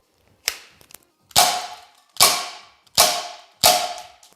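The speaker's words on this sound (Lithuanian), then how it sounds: "Šūvius darysim su pneumatiniu Walter PDP, kuris yra 3 džiaulių galingumo ir šaudo šratukais." A Walther PDP CO2 air pistol rated at 3 joules fires pellets: five sharp, loud shots at an even, quick pace, each with a short metallic ring and no talking.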